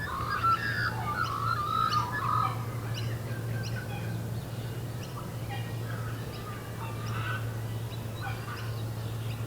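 A magpie-lark calls beside the Murray River at Milawa, repeated clear whistled notes carrying over a steady low hum of the riverside setting.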